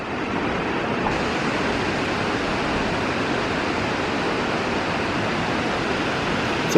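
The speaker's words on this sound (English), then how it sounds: "It's a pretty big falls." A large waterfall on the McCloud River roars as a steady, dense wash of broadband rushing water, loud and unbroken throughout with no voices.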